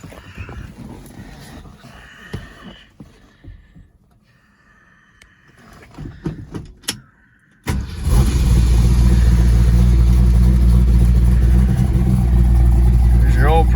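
A 1968 Ford Mustang R-code 428 Cobra Jet V8 with original exhaust tips cranks and catches, jumping to a loud, steady, rumbling idle close by after a few seconds of quiet shuffling and clicks.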